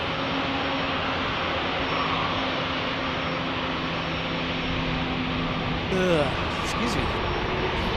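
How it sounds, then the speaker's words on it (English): A United Boeing 737-800 jet idling at San Diego airport gives a steady, broad engine roar that fills the whole stretch, with a brief spoken remark near the end. "this is the United 737-800 that was in the penalty box"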